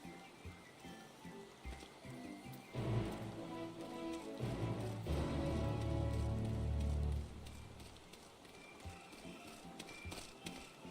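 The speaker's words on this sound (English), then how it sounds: "where is the rain coming from?" Steady rain falls in Final Fantasy XIV Shadowbringers, a soft continuous hiss with patter that swells in the middle, mixed with faint tonal game sounds.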